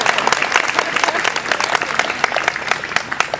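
A crowd at an outdoor political festival gathering in Reggio Emilia bursts into loud, continuous applause, dense clapping close by with a few sharp individual claps standing out.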